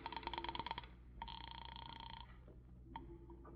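Telephone dialing and ringing in an old radio detective drama: a burst of rapid dial clicks and tones, then a steady ring tone held for about a second, then a shorter tone, all fairly faint with no talk.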